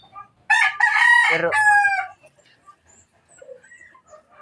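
Chickens on a farm, a rooster crowing loudly and close for about a second and a half, followed by fainter scattered clucking and bird calls in the background.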